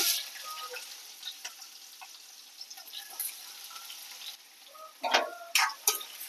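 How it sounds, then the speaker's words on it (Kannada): Sliced onion sizzles and crackles in hot oil in a pan while cooking a mixed greens, potato and capsicum curry, a steady close frying hiss with a few louder bursts of sputtering near the end. "ಇವಾಗ ಈರುಳ್ಳಿ ಹಾಕ್ತೀನಿ"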